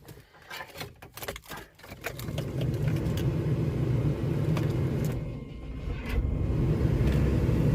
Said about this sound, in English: the starter kind of hung up when I was trying to start there